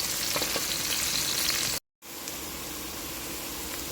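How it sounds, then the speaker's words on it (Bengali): Onions and whole garlic cloves crackle and sizzle in plenty of oil, a loud continuous fry that cuts out for a split second of silence, then resumes just as steadily. "পেঁয়াজের গোটা গোটা রসুন আমি একসাথে ভেজে নেব"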